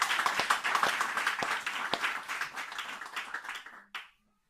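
A church congregation at a wedding service claps in acclaim, a busy wash of many hands that gradually fades, ending with a single sharp clap before silence.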